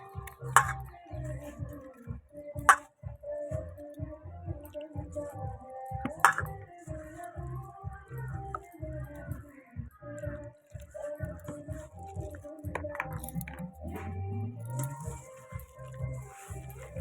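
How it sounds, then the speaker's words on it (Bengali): Mustard flowers kneaded by hand with gram flour and water in a bowl, giving soft, repeated squelching pats in an uneven rhythm, with occasional clinks against the dish, close and fairly quiet. "এবার বেসন দিয়ে এটাকে ভালো করে মাখবো সুন্দর করে মাখতে হবে এটা জল দিতে হবে"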